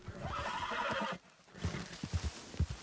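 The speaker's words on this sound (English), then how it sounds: "Horse, shut the fuck up. Why are you making such a scene?" A horse in Red Dead Redemption 2 lets out a loud, shrill whinny, then after a short pause its hooves clop several times in an uneven rhythm.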